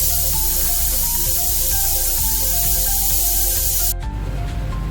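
A pressure cooker of vegetables for pav bhaji on a high gas flame lets off a loud, steady jet of steam hiss laced with whistling tones, heard alone before it abruptly drops off near the end.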